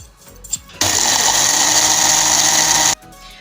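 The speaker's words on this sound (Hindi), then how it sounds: "हल्दी ऐड करके अब हम इसको ब्लेंड करेंगे।" An electric blender grinds a pakora spice mix with turmeric in one loud, steady whir lasting about two seconds, starting and stopping abruptly.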